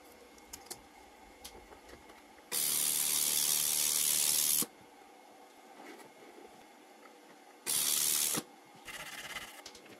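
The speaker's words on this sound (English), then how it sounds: "Next, I tried spot welding some 2mm thick stainless steel together." A micro laser welder spot-welds 2mm thick stainless steel, giving bursts of loud hissing crackle. One lasts about two seconds and two shorter ones follow, separated by quiet background.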